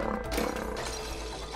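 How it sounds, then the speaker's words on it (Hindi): A lion roars once in the cooperative video game It Takes Two, a short, loud, rumbling growl that fades quickly. "शेर"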